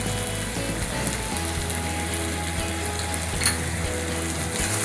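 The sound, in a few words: spices sautéing in hot oil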